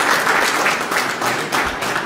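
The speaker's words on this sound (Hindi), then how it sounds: "जोरदार ताली बजा करके हम उनका स्वागत अभिनंदन करेंगे।" Audience applause welcoming a speaker at a financial wellness workshop session: steady, dense clapping from a crowd that carries on at an even level for about two seconds with no talk over it.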